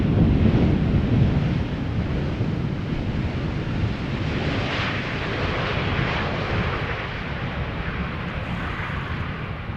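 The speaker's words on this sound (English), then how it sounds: "KLM flight 1654, touching down" A KLM airliner touching down at Schiphol Airport, heard as a loud, steady broadband jet roar with wind-buffeted rumble that holds for the whole stretch and eases slightly after the first moments.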